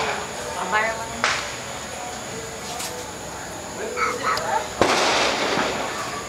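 Fireworks bursting at a distance in irregular pops and crackles, a sharper loud burst near the end, with people talking over them.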